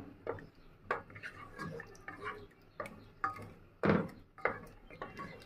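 A spoon stirring frozen peas in tomato sauce in a cooking pot, giving a series of separate clinks and scrapes against the metal at an uneven, unhurried pace, close by.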